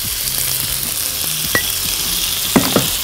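Chicken sizzles in a pan with a drizzle of olive oil, a steady close frying hiss broken by a few sharp pops and spatters near the end.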